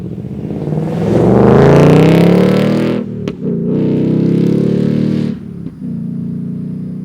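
A 2023 Ford Mustang Mach 1 V8 revving and accelerating hard, a loud close roar that climbs, briefly drops at gear shifts, then surges again, with no talk over it.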